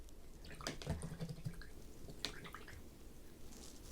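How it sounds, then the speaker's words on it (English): Paintbrushes being swished and rinsed in a cup of water while painting a ceramic llama ornament, giving a few close, splashy drips and sloshes in quick bursts, then quieter trickling. "I'm just going to kind of rinse them out in my water"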